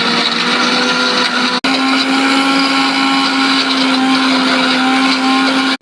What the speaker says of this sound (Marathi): मिक्सरवर बारीक करून घेणार आहोत.